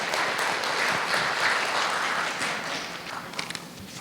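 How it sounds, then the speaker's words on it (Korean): Guests at the opening ceremony of a behavioral development center in a hospital for people with developmental disabilities applaud in a full, steady round that thins slightly, leaving a few scattered claps and taps at the end. "박수로 부탁드리겠습니다"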